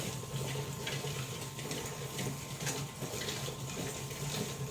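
Water runs steadily into a rock tumbler barrel partly filled with obsidian rocks, a constant close splashing and trickling with a low hum beneath and no talk.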